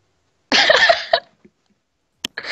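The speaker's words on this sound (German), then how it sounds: "ich muss mal kurz husten" A person coughs into a close microphone, one harsh burst with a short follow-up hack, then a pause and two brief throat sounds at the end.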